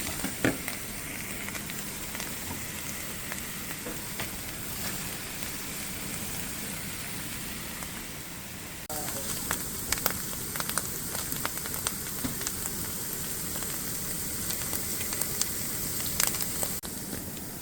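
Chanterelle mushrooms with onions roasting in a hot pan, a dense continuous sizzle and crackle that grows louder partway through, with scattered sharp pops and no voices.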